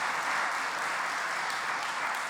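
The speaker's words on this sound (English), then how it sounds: "That applause is for all of you." An audience applauds at a philanthropy celebration, a dense steady wash of many hands clapping, moderately loud and sustained throughout, with no talk over it.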